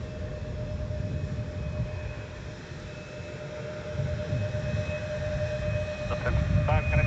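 A Delta heavy airliner arriving at MSP airport, a steady low jet rumble with a faint tonal whine that swells slightly toward the end, heard from a distance.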